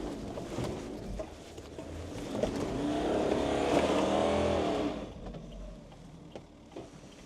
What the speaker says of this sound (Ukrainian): Просто другу передачу в менюал і просто дав газу.